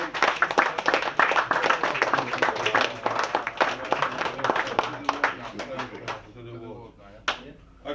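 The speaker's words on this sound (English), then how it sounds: "So big round of applause to every single one of them." Applause fills a room at a football club's end-of-season presentation night, with dense clapping from a crowd that holds steady and then thins out toward the end.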